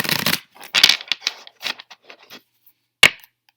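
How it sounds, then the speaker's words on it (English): Tarot cards are shuffled in quick, crisp bursts of riffling and snapping, close and fairly loud, with a sharp final slap after a short pause. "Sorry, it's probably really loud, this shuffling."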